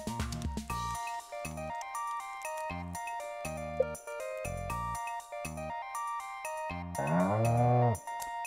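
Cow mooing in Stardew Valley, a single drawn-out farm-animal moo rising near the end over a bright, plinking melodic game soundtrack with no talk.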